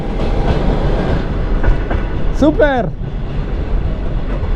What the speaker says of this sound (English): That's the train. I'm traveling in that.